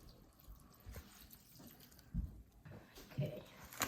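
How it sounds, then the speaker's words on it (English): Water is poured into a bowl of soil with grass, giving soft, faint splashing and trickling with a couple of louder sloshes partway through, close by and quiet. "I'm going to pour the water into the one with a lot of grass."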